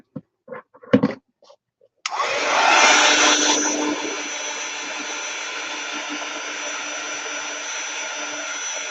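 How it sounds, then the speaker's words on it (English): A heat tool starts up abruptly while drying a watercolor painting. It blows a loud, steady, close whooshing hum that keeps running after a few soft clicks and handling sounds. "I'll use my heat tool again."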